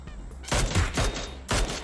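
Gunfire in the mobile battle royale game PUBG Mobile, three loud, quick bursts of shots in close succession with brief gaps between them.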